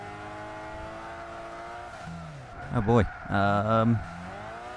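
Revving engine of a Fiat Panda Super i.e. in a racing video game, a steady drone rising into loud high-pitched revs with a brief tyre squeal, while someone talks over it.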